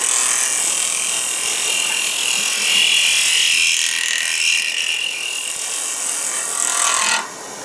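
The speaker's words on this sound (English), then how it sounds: "I'm going to close it down and just do a little draw cut across that surface." A wood lathe turning at about 2,400 rpm while a tool's wing takes a draw cut across the surface, giving a loud, continuous hissing cut that holds steady and then drops off sharply just before the end.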